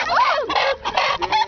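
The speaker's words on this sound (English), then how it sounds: "Rooster." Rooster clucking loudly and close in a chicken yard, a quick burst of agitated squawks broken by brief pauses.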